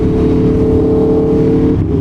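Aprilia Tuono V4 1100 Factory motorcycle engine and exhaust holding a steady, loud rev under way, a continuous throaty drone that dips briefly near the end as if shifting.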